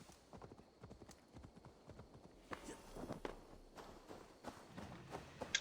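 A horse's hooves in Assassin's Creed Valhalla clip-clop rhythmically on the ground, quick and steady. The hoofbeats stay faint at first, then grow stronger and more uneven partway through.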